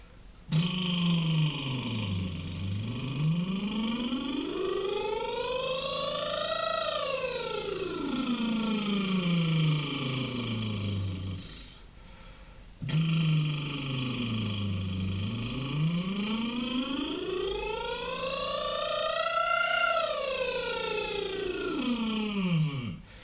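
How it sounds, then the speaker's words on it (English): A voice does two long lip trills, each buzzing sliding from low to high and back down smoothly, with a short pause between them. "So I'm going to use the lip trill slightly nice and low and high 3 times."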